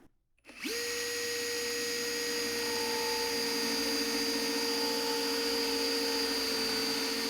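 A power drill whirs up to full speed before boring into a chair leg for a stick chair, a sharp spin-up followed by a loud, sustained high whine that holds steady.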